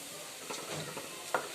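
Peanuts and tempering spices, including chana dal, urad dal, mustard seeds and cumin, sizzle softly in oil for a short stretch, with a few stirring scrapes and a sharp clink near the end.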